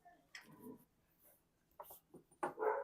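Dogs indoors near an open door whimper and let out short yips and barks in a few separate bursts, fairly faint and close, with quiet pauses between.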